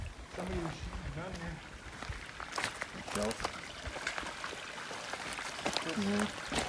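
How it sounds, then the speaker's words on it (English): A desert stream at Seven Springs, Arizona, running water trickling and gurgling close by under people talking. "Love that sound of running water, huh? Especially in the desert."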